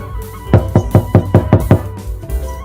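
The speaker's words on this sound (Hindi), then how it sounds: "इतने में दरवाजे पर दस्तक होती है" A series of about seven firm knocks on a door in a Hindi cartoon story, evenly spaced and fairly close, heard alone with no talking.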